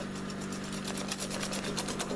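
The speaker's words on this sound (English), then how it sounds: "So just whisk till smooth" Egg mixture for a zucchini torta being whisked smooth in a bowl, a steady run of quick, rhythmic scraping taps against a constant low hum in the background, with no talking.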